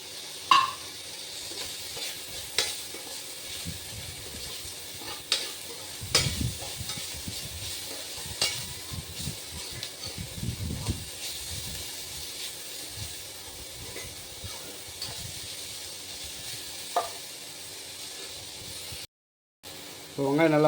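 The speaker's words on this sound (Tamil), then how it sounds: "இப்போ வெங்காயம் பாதி வதங்கிடுச்சு ஃப்ரெண்ட்ஸ், உப்பும் போட்டாச்சு. இப்போ நம்ம பூண்டு சேர்த்துக்கலாம்" Onions, salt and garlic frying and being stirred in a pan for a dried anchovy fish curry, with faint steady sizzling and intermittent stirring scrapes, a voice speaking over it throughout.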